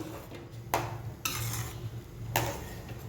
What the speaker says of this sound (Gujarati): હવે આપણે આની અંદર લીંબુને નાખીશું અને આને મિક્સ કરી લઈશું